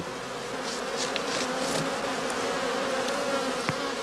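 Honey bees buzz steadily around a traditional straw skep hive on the heathland of northern Germany, a dense, continuous drone with a few individual bees passing close by.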